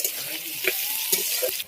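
Onions sizzle in hot oil with dried red chillies, bay leaf and cumin in a pan, a close, continuous frying hiss with a few stirring scrapes over a short moment.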